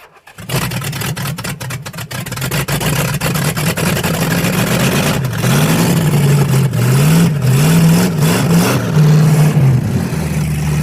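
A 440 big-block V8 in a Samurai, started with brake cleaner poured above the throttle butterflies, fires after a brief crank and settles into a loud, rough idle with a few rising revs, close up.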